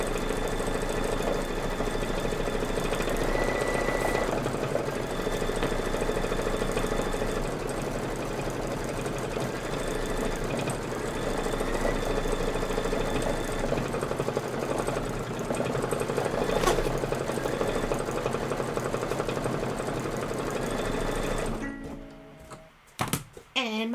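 Sewing machine stitching quilt pieces together, a loud steady mechanical whir running continuously for about twenty seconds before stopping abruptly.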